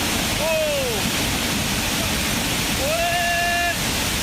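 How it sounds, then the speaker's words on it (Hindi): A flash-flood torrent after a cloudburst in Bhagsu, McLeodganj, Himachal, roars as a constant loud wash of rushing water, with two brief whistle-like tones rising over it. "आज सुबह बादल फटने से अचानक बाढ़ आ गई। देखते ही देखते एक छोटा नाला नदी में तब्दील हो गई।"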